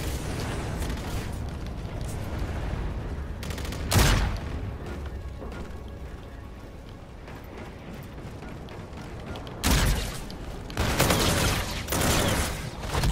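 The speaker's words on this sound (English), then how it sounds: "I was shooting. My controller was doing something weird. I was really spamming the shoot button." Gunfire and explosions in Call of Duty: Infinite Warfare, sporadic loud bursts and blasts punctuating a low, rumbling battlefield background, with a sharp hit around four seconds and a heavier barrage near the end.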